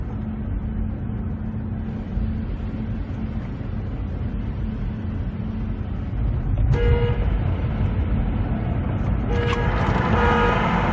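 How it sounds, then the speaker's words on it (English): Two short car horn toots over a steady, loud engine and road rumble in an enclosed, echoing road tunnel in Yosemite National Park. "we honk our hearts out. We just honk, honk, honk."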